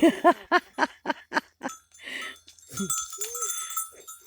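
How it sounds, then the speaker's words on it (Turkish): Several short bleating calls from goats nearby outdoors, repeating in quick succession, followed by rustling, clinking and a faint voice. "Ay bak bak keçiler."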